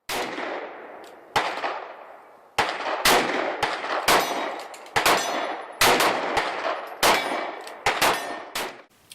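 A Taurus 608 .357 Magnum ported revolver fires a string of loud, sharp shots at an uneven pace, about a dozen cracks each followed by a short ringing echo, with no talk.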